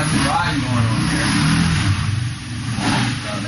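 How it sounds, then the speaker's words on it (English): A Linhai 300 engine fitted with a Dragon Custom exhaust revs close by, a loud throaty rise and fall with a voice talking over it. "That's the Dragon Custom exhaust."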